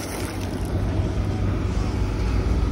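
Low, steady rumble of a large boat's twin diesel engines droning continuously, with some wind and water noise mixed in.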